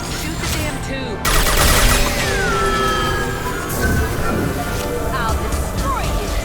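Gunfire in the video game Mass Effect 2 as injection tubes are shot during a battle, a dense continuous barrage of shots under booming effects, with voices heard over the din.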